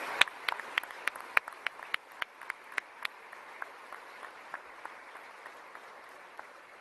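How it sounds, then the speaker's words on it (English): Applause from an audience at a military change-of-command ceremony, starting as sharp, scattered claps that thin out and fade over several seconds, with no talk on top. "give them a big round of applause for their great work"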